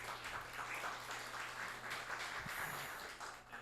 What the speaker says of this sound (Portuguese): uma salva de palmas para o nosso orador aqui